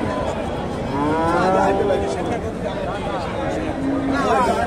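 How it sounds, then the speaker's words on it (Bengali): A crossbred black dairy cow moos at a busy cattle market, with long, drawn-out lowing calls rising over a steady babble of nearby voices and market noise. "এই যে গাভীটা।"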